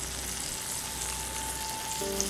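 Sausage slowly heats in a covered cast iron skillet over very low heat, giving a steady, soft, continuous sizzle and frying crackle, close and unbroken, with no talking.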